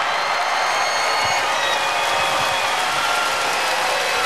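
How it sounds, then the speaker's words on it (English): A large arena crowd at a 2014 Hawaii versus UC Davis women's volleyball match gives sustained, dense applause for a player, a steady wash of clapping that holds evenly throughout. "please give a big round of applause for Kalei Adolpho"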